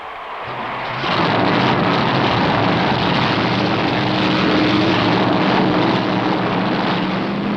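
A loud, steady 1965 stock car engine roar kicks in after a brief quieter moment and holds a continuous droning rumble throughout, at the start of the Darlington Southern 500; no talking.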